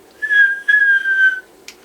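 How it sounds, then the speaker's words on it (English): A loud, steady whistle is sent into a TD-H8 handheld radio transceiver, with two sustained tones just over a second long in total and a brief click afterward. "that was a loud whistle"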